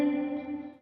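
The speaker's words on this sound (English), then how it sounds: "With the reverb up loud like that, you can also hear the pre-delay a lot more, and it almost does sound like a delay pedal." A CKK Infinite Reverb pedal set for heavy reverb with long pre-delay, a sustained guitar chord washing out into a dense, ringing tail that slowly fades, played alone.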